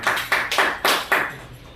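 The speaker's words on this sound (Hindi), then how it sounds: "एक बार ओकर नाम से जोरदार तालियां" Applause at a birthday-special poetry gathering comes as a short run of five or six sharp, close hand claps in an uneven rhythm, with nobody speaking over them.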